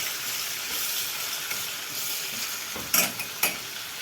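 A frozen tomato sauce cube sizzling and being stirred in a hot pan while cooking pasta sauce, a steady close hiss with a couple of sharp utensil scrapes near the end, no talking.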